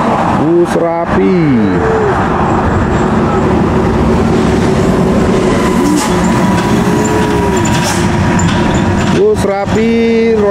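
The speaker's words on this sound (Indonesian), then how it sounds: "bus Rapi." A Rapi Royal Eksekutif Xronus bus passes on the Pekanbaru–Dumai road, sounding loud rising and falling multi-tone horn blasts over a steady engine and road roar, with traffic noise continuing between the blasts.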